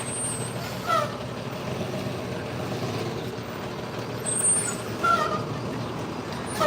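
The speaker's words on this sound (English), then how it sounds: "This is a big truck." A big truck rolls past on a New York City street, a low steady engine rumble under general traffic noise, punctuated by a couple of short air-brake hisses and squeals.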